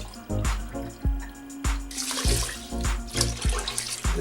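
Beef broth from boiled beef poured from a cup onto three cups of rice in a pot, a splashing liquid pour broken into several separate bursts with short pauses, fairly close.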